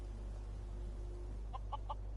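Chickens in the video game Skyrim give three short clucks near the end, faint over a steady low droning background.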